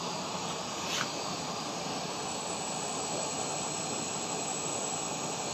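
A stainless steel waste oil stove burner with a twisted oil extractor roars steadily and loudly, a continuous broadband rushing blast that holds unchanged throughout with no voices.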